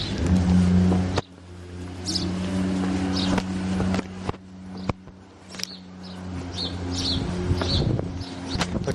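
Street vehicle traffic rumbles steadily with low engine hum and passing cars, fairly loud and close, with brief sharp knocks and faint bird chirps above, no talk.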